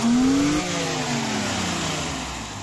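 An old car engine converted from carburetor to EFI with a dual throttle body revs on acceleration, a close loud rising whine that climbs then falls back to a lower steady idle.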